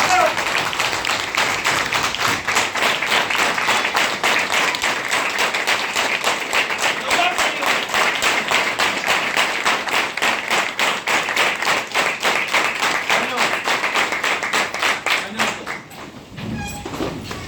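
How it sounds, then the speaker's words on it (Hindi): An audience at a speech event claps loudly and continuously, a dense rapid patter of many hands sustained for around fifteen seconds before tapering off abruptly. "इनके लिए जोरदार ताली होना चाहिए सब लोग।"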